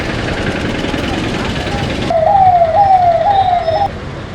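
An ambulance siren wails on a road, a rising and falling tone close by over traffic and engine noise, with a voice speaking nearby.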